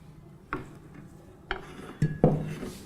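Whipped egg whites are spooned into a puree for a souffle and folded in, giving a few quiet utensil clinks and scrapes against a bowl, spaced irregularly and close, with no one talking.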